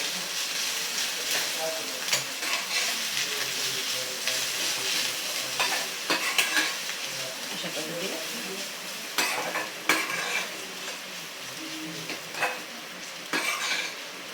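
A spoon scrapes and clinks against a pan as cabbage paratha filling, seasoned with cumin powder and chaat masala, is stirred and sautéed. A soft, steady sizzle runs underneath, with irregular metallic knocks throughout and no talking.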